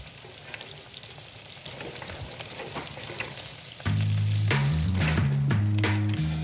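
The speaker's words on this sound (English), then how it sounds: "It's important that you don't overcrowd this, so you just put like a nice even layer in so it fries evenly." Breaded chicken skins fry in peanut oil, a steady close crackle and hiss; partway through, a loud tonal melody comes in over the frying.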